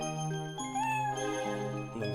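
A cat in the Atlus video game Princess Crown gives a soft, tuneful meow over a tinkling game melody, faint and fairly short.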